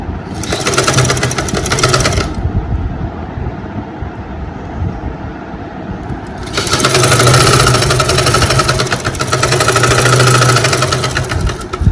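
A sewing machine stitches four lining pieces of a lined top together, running loud and steady in two long bursts with a quieter pause between, no talking.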